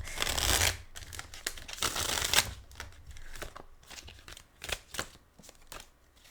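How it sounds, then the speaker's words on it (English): A new deck of playing cards is shuffled by hand: bursts of crisp riffling and rustling up close, then a run of lighter, separate taps and flicks as the cards are squared and handled. "Oh, the joys of shuffling a new deck."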